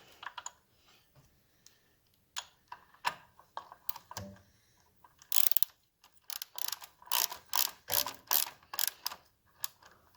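A ratchet clicks in short bursts while tightening a nut on the inner air box of a 1971 Triumph Tiger 650cc under restoration, sparse at first then faster and louder, close by with no talk.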